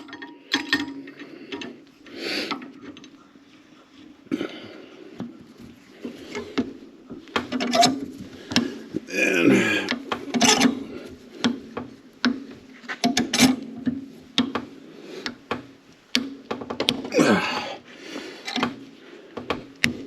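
A hydraulic flaring tool is worked on a steel brake line, with irregular close metallic clicks, rubs and ratcheting creaks in uneven bursts and a faint steady hum beneath, and no one talking.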